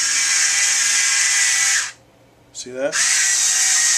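An electric wine bottle opener pulls a cork from a bottle, a loud steady motor whine that runs about two seconds, stops briefly, then starts again and holds; someone speaks briefly during the pause.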